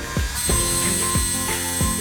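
A drill whines steadily against the rear body panel of a 2015-2020 Subaru WRX/STI, with rhythmic knocks as the bit bites in about every half second.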